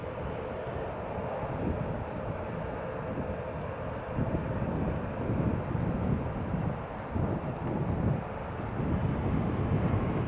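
An airliner takes off at Newcastle International Airport, its engines giving a steady, broad roar at a moderate distance that swells slightly toward the end, heard alone with no talk.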